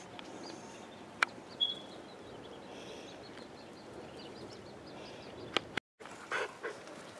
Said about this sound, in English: He's a puppy, Danny.